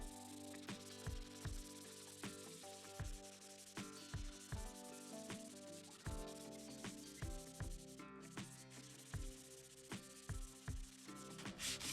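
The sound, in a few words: sanding Mustang spoiler with 180 grit sandpaper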